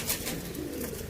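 Teddy pigeons cooing softly at close range, a brief low throaty coo over light background noise.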